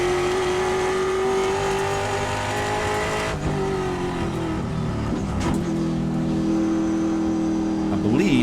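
A Trans Am race car engine drones loud and close from onboard at Thunderhill, holding a steady high note that drops and climbs through gear changes, with a commentator talking over it.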